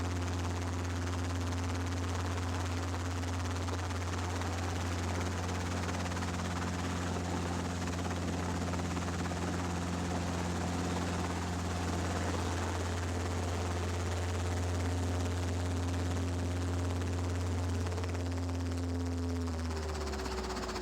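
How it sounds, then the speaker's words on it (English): Robinson R22 two-seat helicopter in flight with its doors off, heard from inside the cabin over San Diego: a loud, constant rotor and engine drone with a low steady hum, winding down near the end. "The 2-seat that we're in now, the R22, has a lower operating cost. Its doors are off for us"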